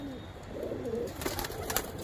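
Pet pigeons at a rooftop coop cooing softly, a few low throaty coos close by over faint background hum.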